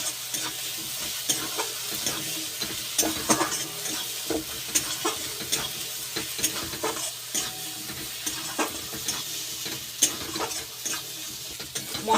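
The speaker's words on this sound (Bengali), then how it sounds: "কালারটা যাতে ভালো আসে তার জন্য কাশ্মীরি রেড চিলি পাউডার দিয়ে দেব। আর একটু কষিয়ে নেব।" Spices and Kashmiri red chilli powder frying in oil for a puti fish curry, with a continuous close sizzle and rhythmic spatula stirring and scraping against the pan throughout.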